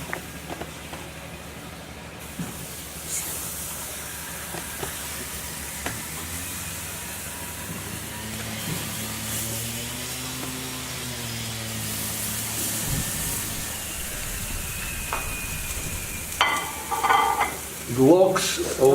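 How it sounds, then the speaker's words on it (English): Salted sardines sizzle on a grill with a steady, soft frying hiss throughout, then sharper clinks and crackles as the fish are handled near the end. "So we'll put it on the grill."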